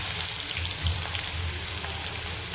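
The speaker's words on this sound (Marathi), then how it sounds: "हे बघा, यामध्ये मी मोहरी आणि जिरे टाकलेले आहे. ते छान कडकडतात." Mustard seeds and cumin crackle in hot oil in a pan, a dense, steady spattering and popping heard up close for a few seconds with no voices.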